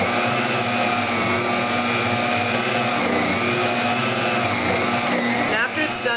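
A Bosch Universal Plus mixer kneads bread dough with a loud, steady motor drone and a low churning hum, close and unbroken, briefly wavering near the end.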